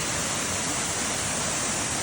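Waterfall in Te Aroha swollen after Cyclone Gabrielle, a loud, constant broadband rush of water with no pauses or voices.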